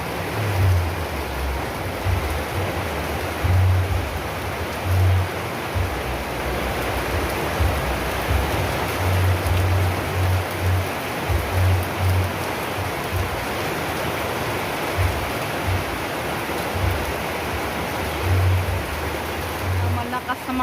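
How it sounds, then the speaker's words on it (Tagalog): Heavy rain pours down steadily at a home by a well, a dense continuous wash of noise, with low thumping patches throughout. "Lakas ng ulan."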